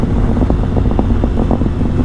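A 2005 Triumph Sprint ST with its 1050 cc triple engine runs steadily, a deep throbbing drone with regular pulses, heard close by and alone with no talk over it.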